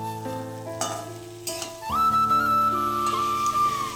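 An egg dropped into a pan of sautéed spice paste, with clinks and stirring at first, then a sudden louder steady sizzle joined by a high whistling tone.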